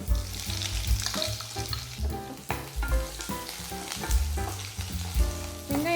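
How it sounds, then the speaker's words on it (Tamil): Onion and a stick of cinnamon fry in hot oil for a semolina-free yam fry base, a dense steady sizzle with stirring clatter running throughout, close and fairly loud, no voices. "நல்லா வதங்கணும், நல்லா கோல்டன் ப்ரௌன் ஆகிற வரைக்கும் வரும்."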